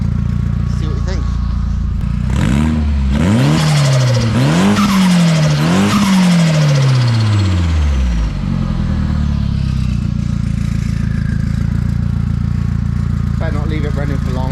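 A Wankel rotary engine for a 13B RX build, running on a test stand without a cooling system and revved several times, loud and close, its pitch surging and falling in repeated sweeps before settling to a rough idle.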